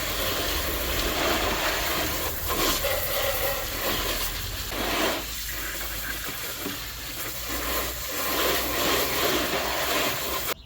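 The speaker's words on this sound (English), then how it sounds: "Next thing is just to hose off all the mud that we couldn't get to in the stream." A garden hose sprays water over a mud-caked RC car after a stream run, a steady broadband hiss that runs almost unbroken and close, swelling and dipping slightly as the spray moves across the body.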